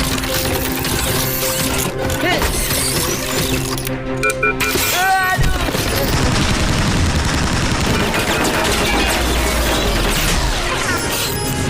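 Cartoon gunfire in an animated chase, sustained rapid bursts layered with crashes and mechanical clatter, loud and dense throughout with a brief whooshing break midway.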